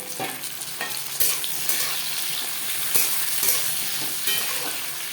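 Onions and tomatoes sizzle and crackle steadily in a heavy aluminium wok, with occasional sharp stirring scrapes punctuating the continuous frying hiss, close and fairly loud.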